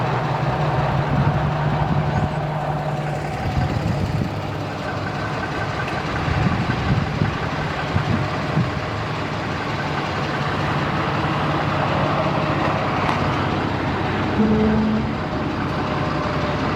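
A truck engine idles steadily while a trailer is being hooked up, a continuous low rumble throughout with faint clanks and shifting noises and no talking.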